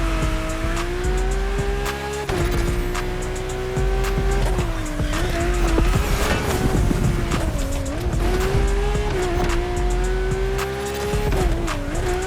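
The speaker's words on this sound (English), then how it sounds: "Drift car is powerful as hell." A powerful drift car in the racing game The Crew Motorfest, its tires squealing continuously over a loud, steady engine roar as it slides, with pitch wavering through the turns.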